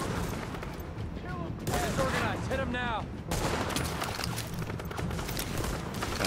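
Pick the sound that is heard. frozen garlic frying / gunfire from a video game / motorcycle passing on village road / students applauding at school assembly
gunfire from a video game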